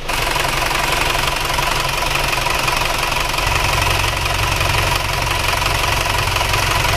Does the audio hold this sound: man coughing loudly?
no